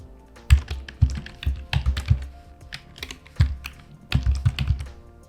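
Keys clatter on a computer keyboard in quick irregular bursts of close, crisp taps with short pauses between groups, no voices.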